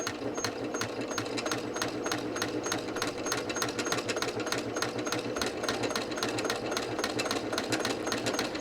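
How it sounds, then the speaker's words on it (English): A sewing machine stitches along the edge of a fabric potholder at close range, its rapid rhythmic stitching continuous and even for the whole stretch with no pauses. "we're going to go to the sewing machine and we're going to do that"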